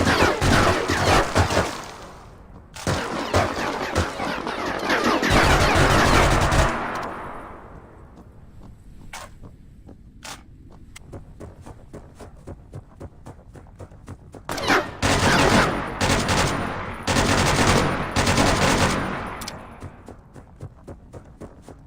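Gunfire rings out in a mobile battle royale shooter game, with sharp loud shots and rapid bursts clustered in two intense stretches, separated by sparser single cracks and quieter game ambience.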